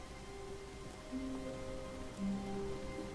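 Soft rain in The Stanley Parable video game, a quiet, steady hiss of falling rain with faint sustained tones underneath.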